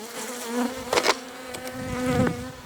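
Honey bees buzz close by at a clay skep hive with a broken entrance, a steady droning hum that rises and falls as individual bees pass near, with a few light taps.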